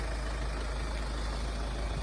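A 2012 Hyundai Santa Fe with a 2.2 CRDI diesel engine idles steadily with a low, even rumble and no voices over it.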